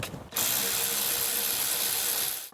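A ratchet spins off 13mm bolts on a 2003-2006 Dodge Sprinter front shock in a fast, continuous clicking burst that is close and loud, then stops abruptly.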